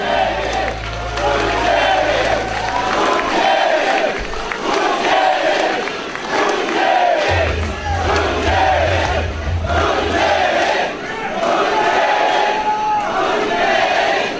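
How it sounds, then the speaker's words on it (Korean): Crowd at a party rally in Gwangju greets a candidate with sustained cheering, whoops and applause, dense and loud throughout without a pause. "국민통합당 상임 고문이신 김재진 후보를 뜨거운 박수로 맞이해 주시기 바랍니다"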